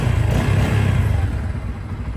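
A Bajaj Pulsar N250 single-cylinder motorcycle's exhaust throbs with a loud, close, low rumbling drone that holds steady and then eases slightly toward the end.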